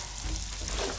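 Chips frying in a pan alongside salt and pepper squid, a brief, continuous close sizzle with a faint stirring rustle.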